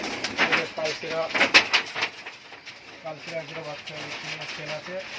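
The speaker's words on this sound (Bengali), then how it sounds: "তো পায়রা সব খুবই খুবই সব সেটিং হয়ে আছে।" High flyer pigeons in a loft coo in a steady run of low, throaty, repeated calls, fairly close, with voices murmuring in the background.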